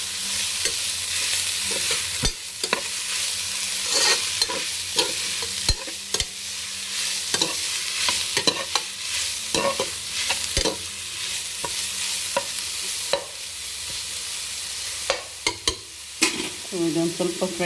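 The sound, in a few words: pumpkin frying and stirred in a pan for Kashi halwa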